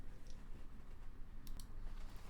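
Soft, rapid keystrokes on a computer keyboard, faint and close, in a quiet room.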